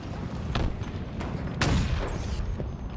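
Sniper rifle shots in a Halo match at a competitive esports championship: a couple of sharp gunshot bursts, one near the start and a stronger one midway, over a busy mix of game noise and crowd ambience.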